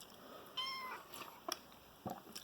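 A small cat meows softly a few times, faint and close, with short mews in a quiet room and no talking.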